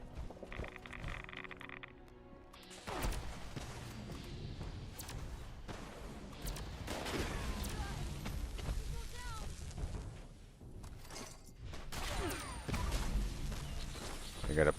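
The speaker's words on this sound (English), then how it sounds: "I hear explosions." Explosions and scattered gunfire rumble through a Fallout 76 game session, with booms and crackling blasts that build and fall across the stretch, partly mixed with other game noises.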